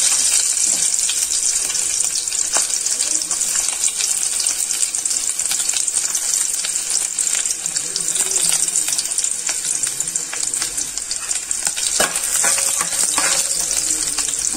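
Garlic fries in hot butter in a pan, making a steady, close sizzle with crackling pops that carries on without a break through the whole stretch.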